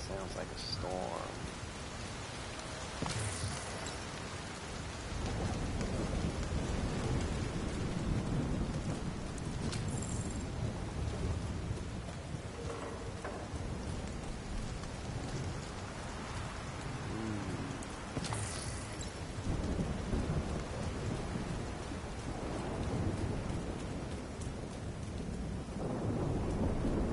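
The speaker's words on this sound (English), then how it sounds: "Sounds like a storm." A thunderstorm rolls through the Division 2 video game, with steady heavy rain drumming on surfaces and several deep thunder rumbles and cracks spread across the half minute, fairly quiet overall.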